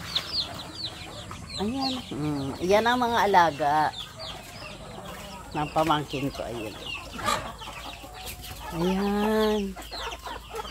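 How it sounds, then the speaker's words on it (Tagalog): Free-ranging backyard chickens, including gamecocks, cluck around a rural provincial home in the Philippines, with a few clear bird calls in bursts between and under nearby conversational talk. "Ayan, ang dami ng manok."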